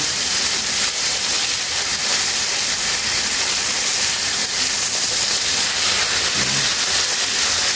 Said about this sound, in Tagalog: So, iprito natin siya ng banayad lang.